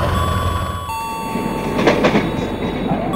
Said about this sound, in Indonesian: Nah, tuh dia keretanya udah datang.